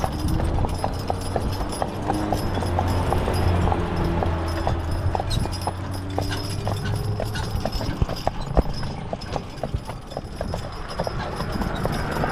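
A team of grey Percheron draft horses walks steadily, hooves clip-clopping in an even, continuous rhythm over a constant low background rumble, with occasional faint jingling of harness.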